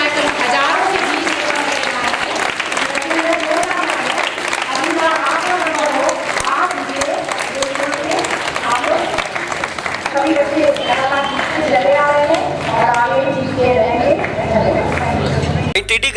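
A large crowd applauds a winning girls' cycling team at a school event, dense, sustained clapping mixed with chatter and a loud voice over a public address system.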